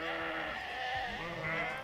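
Merino sheep bleating on a farm, a continuous chorus of several animals calling over one another, loud and close for the whole stretch.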